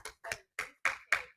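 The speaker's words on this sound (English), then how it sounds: "can we do that clapping one more time?" Five sharp, evenly spaced claps ring out at an auction of Disney art, each burst short and bright with silence between, like a small audience clapping in unison.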